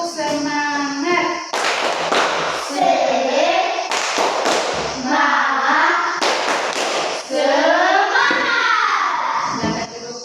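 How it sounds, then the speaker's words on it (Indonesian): A school class performs a rhythmic spirit clap, loud hand-clap bursts in repeated patterns alternating with the group's chanted voices, close and energetic throughout. "kita tepuk semangat dulu"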